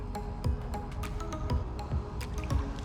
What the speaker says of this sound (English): Might just take a minute for some of this water to run off.